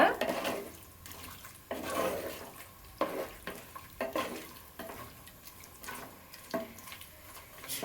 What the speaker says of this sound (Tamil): இந்த மட்டன் மட்டும் நீங்கள் சேர்த்துட்டு நல்லா வதக்கிக்கோங்க